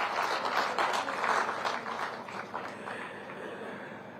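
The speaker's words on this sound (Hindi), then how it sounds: "तालियां आप सबकी तरफ से बनती" Applause from an audience at a government event where a state chief minister is inaugurating projects, a steady wash of many hands clapping, moderately loud and slowly easing off toward the end.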